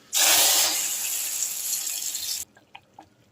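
Hot tempering of cumin, garlic and three dried red chillies poured into a pot of dal, a loud sizzling hiss bursting in at once and holding steady for over two seconds before cutting off, followed by a few faint clinks.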